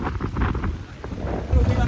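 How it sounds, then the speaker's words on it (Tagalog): Wind buffets a microphone on a seaside cliff used for cliff diving, a loud gusty rumble with voices talking over it. "Madami hangin dito."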